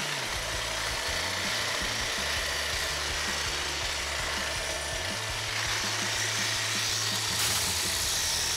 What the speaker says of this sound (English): Let's put the head trimmer in there and see what it does.